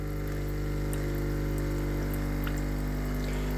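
A Bosch Tassimo TAS-45 coffee machine runs its cleaning cycle, its pump giving a steady loud buzzing drone while water runs through into a cup, continuous and close with no talk.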